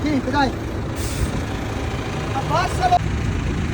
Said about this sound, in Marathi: 2 ट्रक आले, एक ट्रेलर न्यायला आला, एक ट्रक न्यायला आला.